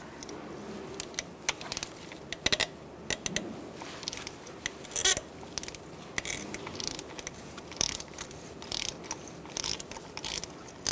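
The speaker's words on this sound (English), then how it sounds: "I'm going to use a 5/8 spark plug socket and an extension and my ratchet, and we're going to unscrew the spark plug." Close, quiet ratchet clicks in short bursts as a 5/8 spark plug socket on an extension unscrews a spark plug from a 2012-2017 Hyundai Accent 1.6L four-cylinder, with scattered metallic taps and handling noises between.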